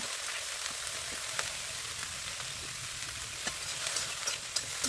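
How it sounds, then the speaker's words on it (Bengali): Cauliflower and eggplant fry in hot oil for vegetable khichdi on a clay pipe stove, a steady close sizzle broken by scattered scrapes and knocks as a spatula stirs them. "এবার ফুলকপি আর বেগুনটা তেলের মধ্যে দিয়ে দিলাম এবার খুন্তি দিয়ে ভালো করে নাড়াচাড়া করে নিলাম"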